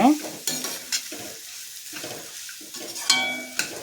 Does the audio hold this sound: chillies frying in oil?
yes